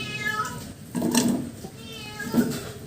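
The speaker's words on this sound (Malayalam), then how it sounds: "പൂച്ച അവിടെ പരാക്രമം പറയാണ്" A cat meows twice nearby, a short call followed by a louder, drawn-out one, over quiet room noise.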